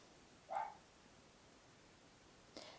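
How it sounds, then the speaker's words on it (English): Dog barking downstairs: two brief, faint barks, one early and one near the end, muffled and distant against a quiet room hush. "a dog barking downstairs"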